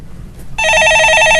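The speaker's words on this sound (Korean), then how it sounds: "전화 받아보겠습니다" A telephone begins ringing in a studio during a live stock-market call-in show, an electronic trill of rapid warbling tones that starts abruptly and continues loud and close.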